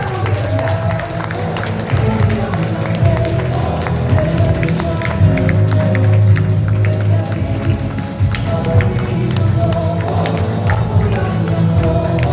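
An audience at a business seminar in Gyeongju claps to welcome a speaker to the front, dense applause sustained throughout with some cheering and murmuring from the crowd.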